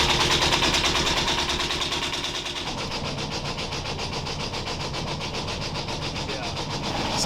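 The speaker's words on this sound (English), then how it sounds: "So we got the engine running again." A sailboat's engine idles steadily after a restart, with an electric fuel pump that had been smoking; a continuous mechanical drone runs throughout with voices talking over it.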